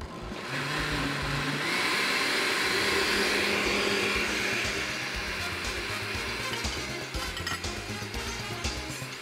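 A blender whirs loudly and continuously as it mixes a caramel dessert mixture, the motor pitch swelling and settling over several seconds.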